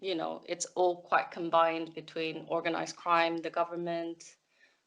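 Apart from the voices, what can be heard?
No everyday noises stand out.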